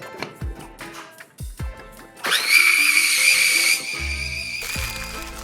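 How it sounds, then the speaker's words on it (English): A kitchen blender whirs loudly, chopping chunked onion for beef kofta, starting after a few short knocks and running steady with a high-pitched whine for about two seconds, then shifting to a lower hum. "we're just gonna blend this until the onions are nice and fine"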